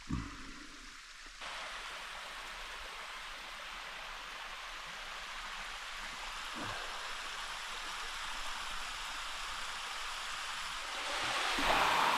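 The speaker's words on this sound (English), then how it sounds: "This is the second waterfall" Steady rushing roar of a nearby waterfall on Merchant Peak, Washington, continuous and broadband, with no speech and a slight swell in intensity toward the end.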